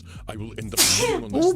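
A character in the video game Vampire Therapist lets out a single sharp, close sneeze right after a line of speech, with talking resuming just after.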